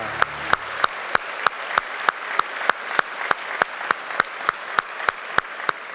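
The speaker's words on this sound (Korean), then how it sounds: "우리 하나님께 감사의 박수 올려드리죠." A church congregation applauding in unison, sharp claps landing together in a steady beat of about two to three per second, loud and regular throughout.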